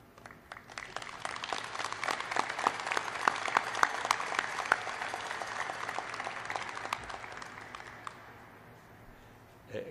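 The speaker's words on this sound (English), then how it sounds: "Please join me in a round, again in a round of another applause for Dishi Bieder" An audience applauds at the keel authentication ceremony for the frigate Constellation FFG 62, a sustained spread of crisp claps at moderate distance that swells, holds steady, then tapers off.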